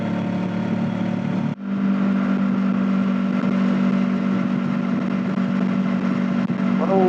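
A Honda NX500 motorcycle cruises at about 120 km/h on an open road, its engine humming steadily under loud wind rush, with one brief dip early on before the drone resumes.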